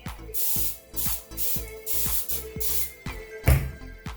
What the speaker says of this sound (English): I'm still probably gonna spray it just because I want more moisture in it